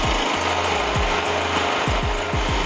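A generator engine drives a large one-ton wood-fired rotary grain dryer, giving a loud, dense mechanical roar with repeated scraping, rasping sweeps and rhythmic knocks as the drum turns.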